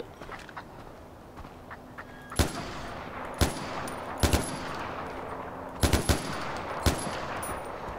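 Hunting shots in Far Cry 4, about half a dozen sharp gunshots cracking out singly and in quick pairs over a quiet outdoor ambience of faint insect-like buzzing.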